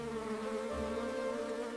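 A bee buzzes close and steady, a continuous droning hum with a rich layered tone that holds without pause for the whole short stretch, nothing else audible.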